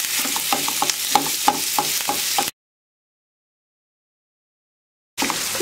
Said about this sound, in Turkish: Hafif kıymayı orta ateşte kavuracağım.